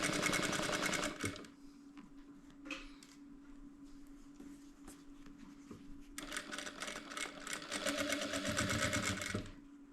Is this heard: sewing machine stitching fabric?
yes